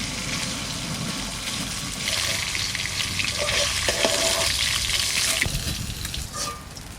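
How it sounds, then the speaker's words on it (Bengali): A large sea bokthuto fish from Odisha, weighing about 4 kg, fries in spattering oil, making a dense, loud, steady sizzle with brief crackles and pops close by, and no voices. "উপর যখনই দিছি তখনই একবার ছিটে তেল একবারে এদিক ওদিক ছিটে চলে গেল"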